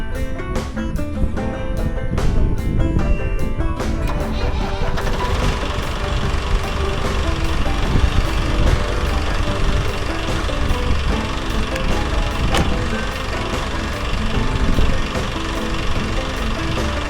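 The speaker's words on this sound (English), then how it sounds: "Let's go mow." A lawn mower runs steadily while mowing in summer, a loud continuous engine drone with a rattly mechanical texture, close and unbroken throughout, no talking.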